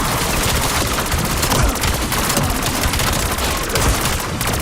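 Dense, continuous gunfire from a video game zombie mode, shots fired at undead enemies in rapid overlapping bursts with booming hits, loud and sustained throughout with no pause.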